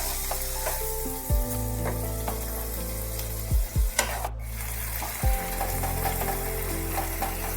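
Chicken mince, drained after soaking in vinegar, sizzles in a hot pan while being stirred. A constant close frying hiss is punctuated by a few low thumps and scrapes from the stirring.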